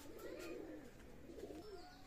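A Pakistani high-flyer pigeon coos twice in soft, low, throaty rolls, fairly close, in a pigeon loft, with a quiet background and no talking.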